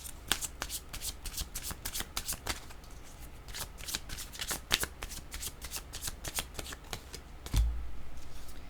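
Tarot cards are shuffled close up in a quiet room: a rapid run of crisp riffling snaps, then a short pause, more riffles and a soft thud near the end.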